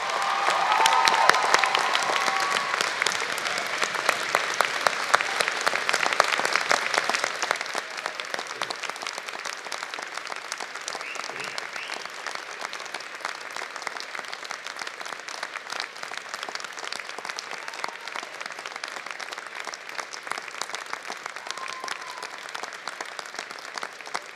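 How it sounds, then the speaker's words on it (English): Applause from the audience at a university convocation ceremony, loud and dense for several seconds, then settling into steady, lighter clapping that continues throughout. "give them a great big round of applause"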